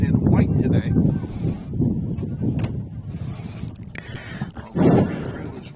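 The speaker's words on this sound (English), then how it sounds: "Even though it's really windy out," Strong wind buffets the microphone with loud rumbling gusts at an outdoor girls' soccer game, mixed with voices and crowd noise.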